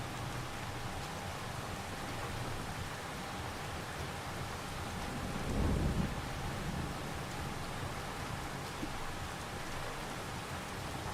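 Rain falls in the Farming Simulator 25 game as a steady, dense hiss of drops on surfaces, even and continuous throughout, with a brief low rumble swelling midway.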